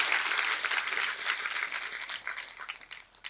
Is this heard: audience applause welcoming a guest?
yes